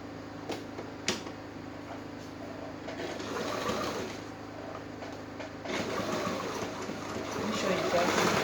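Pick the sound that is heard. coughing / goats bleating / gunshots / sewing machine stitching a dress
sewing machine stitching a dress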